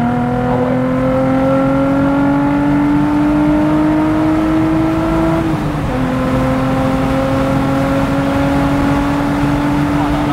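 A Nissan 350Z cabriolet's exhaust drones loudly and steadily as the engine holds high revs, its pitch rising slowly and then dipping briefly before settling, with no voices over it.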